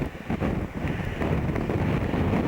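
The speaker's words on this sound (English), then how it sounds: "wind suddenly got up there" Strong, steady wind buffets the microphone on an exposed stretch of coast near Saltwick Bay, a continuous loud roar that swells after a brief lull and holds with no voices.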